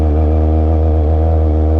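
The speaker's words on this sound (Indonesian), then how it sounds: "karena gue pakai knalpot racing guys" Kawasaki ZX25R motorcycle with a racing exhaust idles steadily, a loud close buzzing rumble that holds a constant pitch for the whole moment.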